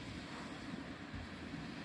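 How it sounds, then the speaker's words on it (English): Sea waves wash steadily on Chesil Beach, a broad continuous surf roar with some low wind rumble, fairly faint and even throughout, with no voices. "listening to the waves and looking at that beautiful sky out there"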